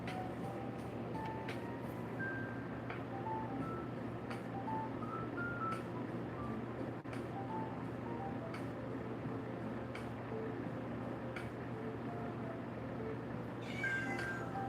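A house cat meows again and again during an art and sketching session, each call short and clear over a constant low electrical hum, with no talking.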